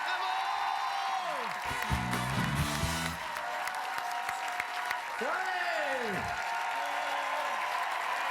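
A French-language Quebec TV studio audience cheers and applauds with sustained, dense clapping and whoops, while a voice calls out over the crowd.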